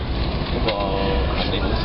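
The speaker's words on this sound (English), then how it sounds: "The train ride begins." A Via Rail passenger train pulls out of Toronto, a steady loud low rumble and rolling rail noise heard from inside, continuous throughout the short stretch.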